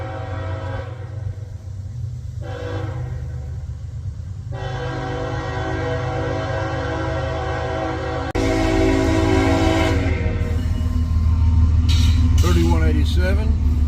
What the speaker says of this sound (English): it may be a mid-engine train.